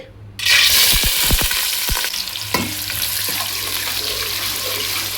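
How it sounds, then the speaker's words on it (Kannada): Onions hit hot oil for chicken pulao with a sudden loud sizzle, preceded by a few clattering knocks, then settle into a steady, close, hissing fry that continues alone. "ಈಗ ಆಯಿಲ್ ಬಿಸಿ ಆಗಿದೆ. ಈಗ ಆನಿಯನ್ ಫ್ರೈ ಮಾಡ್ತೀನಿ."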